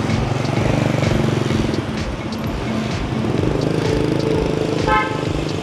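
Dense Hanoi street traffic with many motorbikes, engines droning and buzzing close by, and a short horn toot near the end.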